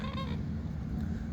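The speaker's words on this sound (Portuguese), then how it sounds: "Esse é o frango d'água que está cacarejando." A water hen (frango d'água) calling with a short, nasal, honking cluck near the start, over a steady low background hum.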